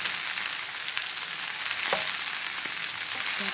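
Seasoned rice, moistened with vegetable broth, stir-frying in a hot pan, giving a close, continuous frying hiss with a few soft scrapes from stirring.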